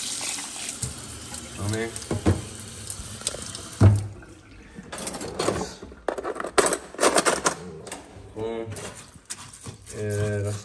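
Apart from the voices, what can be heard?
water running from a tap into a pot of rice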